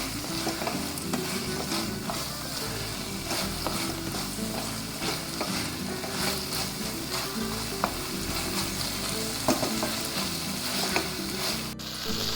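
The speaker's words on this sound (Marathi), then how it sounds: "एक 2-3 मिनटं हे आपण ह्या मसाल्यात लॉलीपॉपचे पीस परतून घेऊया" Chicken lollipop pieces sautéing in masala, a dense, loud sizzle and scraping stir that runs steadily throughout, with no talk.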